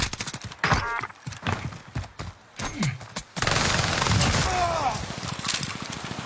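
Rapid bursts of gunfire from a battle-royale video game crackle and pop in quick volleys, followed by a denser, sustained stretch of shooting, with players talking over the action.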